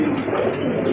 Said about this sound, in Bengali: দেখতে পাচ্ছি এখানে আরো একটা বিশাল সাইজের মাল্টিস কবুতর